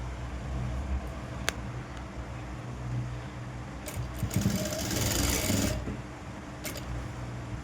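A sewing machine stitches a blouse, a steady mechanical whirr running throughout with a louder, busier burst of stitching midway, no talk over it.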